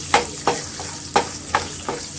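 Garlic goes into hot oil for a tempering and sizzles up close, broken by a few sharp clinks or scrapes in quick succession.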